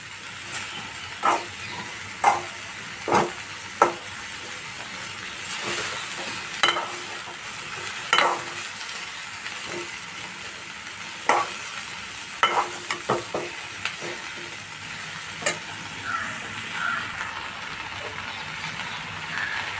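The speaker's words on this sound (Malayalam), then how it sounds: "നന്നായി ഇളക്കി കൊടുത്തിട്ട് ഇനി ഒരു മൂടി വെച്ചിട്ട് വേവിക്കാം" Okra stir-fry, vendakka mezhukkupuratti, being stirred in a pan: a quick series of distinct spoon scrapes and taps over a steady quiet sizzle, irregularly spaced and close by.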